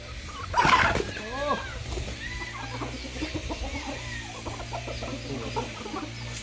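A rooster clucks in short, repeated bursts close by, with the loudest call near the start and softer clucks after it, while a voice murmurs faintly in the background.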